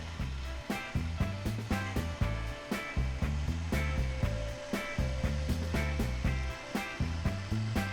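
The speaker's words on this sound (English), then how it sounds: "turn the mixer on low speed" Close, steady motor drone of a stand mixer on its lowest setting working lavash bread dough, with a rhythmic pulsing beat about twice a second and no talking.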